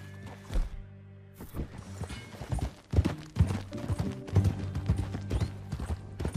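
Horse hooves clip-clop steadily at close range as a horse is ridden in Red Dead Redemption 2, with a firm, even rhythm of hoof strikes and a little background sound.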